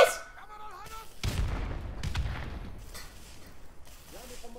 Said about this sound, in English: Getting shot at, boys!